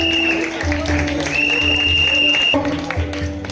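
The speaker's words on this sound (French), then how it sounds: "je vous prie de bien vouloir applaudir encore." Guests applaud a couple at an anniversary celebration, a broad wash of clapping heard under loud sustained music tones and some crowd noise.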